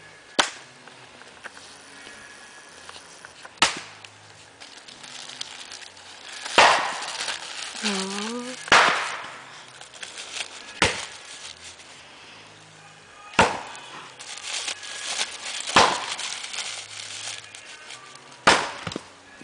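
A wood campfire lit with paper throws out sparse, sharp pops and snaps at irregular intervals over a low background hiss, with a short vocal sound partway through.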